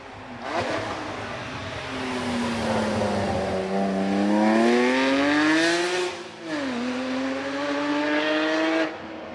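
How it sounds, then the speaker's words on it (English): A Porsche 911 SSE races up the Prescott hill climb, its engine loud and near, revving hard and climbing through the gears with sharp drops at each shift before fading at the end. "Away then goes 127 Richard Snow, and up comes 128, and 128 is Will Goff in the Porsche 911 SSE"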